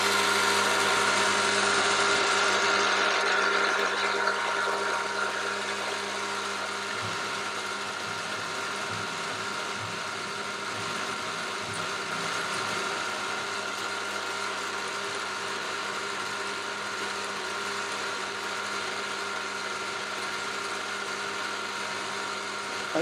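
A machine tool cuts a 9 mm slot into a metal part with a steady, fairly quiet whine and hum, a brighter cutting hiss at the start fading into a constant drone.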